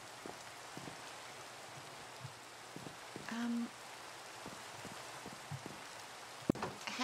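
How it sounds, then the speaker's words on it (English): Rain falls in a Minecraft world, a soft, steady hiss of drops that stays faint and even, broken by a few small clicks and one brief sharp tap near the end. "Well, it's still raining."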